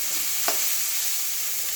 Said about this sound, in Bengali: আমি এবার ক্যাপসিকামটা কাঁচা খেতে পারি না, তো একটু হালকা ভেজেই নিই